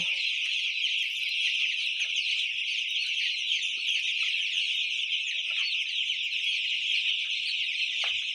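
A dense, steady chorus of many chickens on a poultry farm clucking and chattering together, filling the whole stretch without a break and with no voices.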